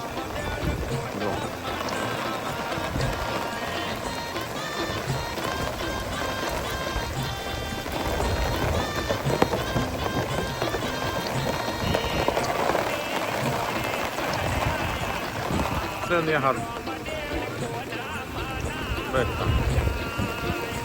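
Heavy rain with wind lashes a village in a steady, dense roar that never lets up, while people talk over it.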